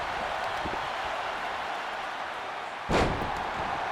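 A wrestler's missed moonsault crashes onto the ring mat with a single loud, sharp slam near the end, set against a steady wash of crowd noise at a wrestling show.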